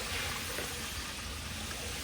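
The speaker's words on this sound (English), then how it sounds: "We're going to open this valve, drain all that water." Water drains from an input tank of a vacuum siphon float system through an opened valve, a steady rushing trickle and pour heard close and continuous for the whole stretch.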